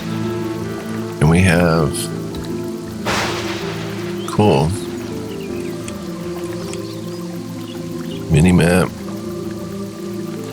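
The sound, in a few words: rain falling in the video game Evil Islands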